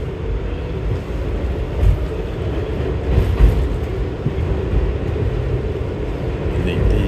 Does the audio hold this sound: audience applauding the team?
no